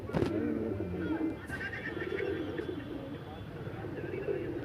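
Flock pigeons sit and coo in low, murmuring phrases close by. A person talks over the birds for much of the time.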